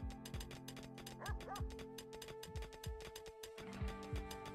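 A dog barking and yipping in the video game RimWorld, a quick series of short repeated barks with a whimper, set over a steady background game music track.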